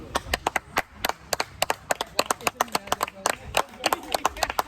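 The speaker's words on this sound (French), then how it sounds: "Applaudissons, hein, j'ai envie de dire. Moi j'applaudis." A lone person claps hands in a quick, uneven run of sharp close slaps during a cheerful family moment, with other voices talking in the background.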